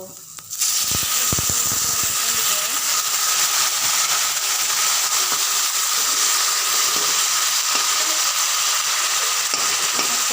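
Pointed gourd and potato pieces fry in a pan for a potato curry, giving a continuous loud sizzle and hiss that starts suddenly and holds steady throughout.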